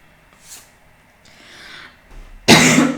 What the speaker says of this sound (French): Je m'excuse, parfois je tousse.